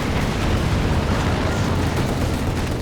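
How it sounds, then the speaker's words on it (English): Incendiary bombing in the Company of Heroes 2 video game, a dense, continuous rumble of bursting explosions that stays loud and steady throughout, with no talk. "Incendiary bombing out the back while the officers making some plays."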